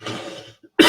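A single cough, sharp and close, following a brief moment of low background murmur.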